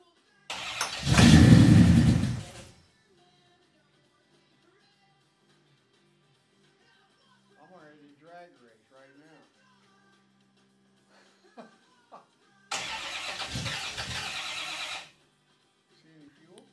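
A 1962 Chevrolet Impala SS convertible barn find cranks without catching, in two bursts: a loud, near one of about two seconds and a longer, steadier one later, with quiet talk in between.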